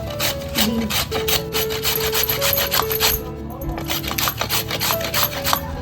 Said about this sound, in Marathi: हे बीट आणि गाजर आहे ना तो आपल्याला असा किसून घ्यायचा